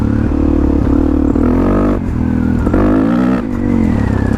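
A Suzuki DRZ400 motorcycle fitted with an FCR39 carburetor is ridden wide open, its engine roaring loud and close with a steady, rising pitch and brief dips between gears, alone without talk.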